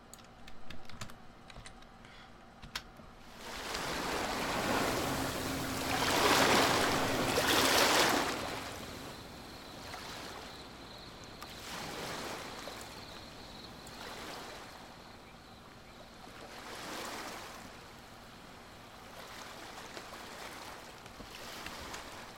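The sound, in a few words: water sound effect in sound design mix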